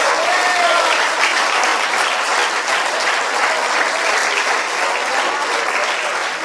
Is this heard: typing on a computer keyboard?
no